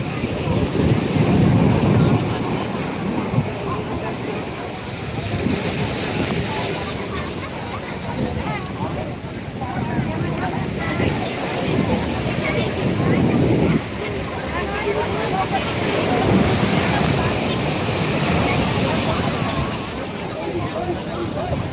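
Rough, surging sea surf breaking at Digha beach under storm alert, a continuous loud roar of waves with heavy wind buffeting the microphone and rising swells every few seconds.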